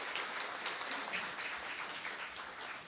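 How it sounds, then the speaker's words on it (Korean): Faint, even applause from the audience at a university president's farewell ceremony, a soft continuous patter of many hands clapping heard from a distance. "네, 다시 한번 큰 박수 부탁드립니다."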